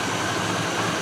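A Range Rover engine with a misfire and fuel pressure problems runs steadily at close range, a dense, even rumble with no voices.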